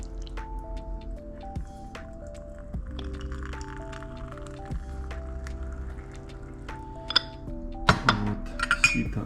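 A tea strainer and glass teaware clink and tap during tea brewing, scattered light knocks over a faint sustained hum, growing busier with sharper clinks near the end.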